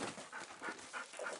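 A dog pants close by in quick, rhythmic breathy puffs, about three per second, quiet and without voices.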